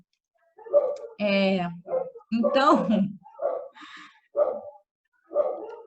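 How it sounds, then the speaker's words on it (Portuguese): Several dogs bark repeatedly in short yelping bursts during a spoken lesson, someone talking between and over the barks. "já tô até perdida com esse latido"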